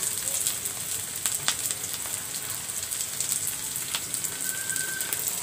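Prawns frying in a hot pan for a bottle gourd peel curry, giving a steady, close crackling sizzle dotted with small sharp pops and spits throughout, with no talking.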